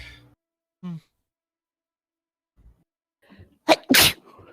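A sharp, loud sneeze bursts out near the end after quiet gaps with a faint breath and small vocal sounds, during a tabletop role-playing game session with voices around it.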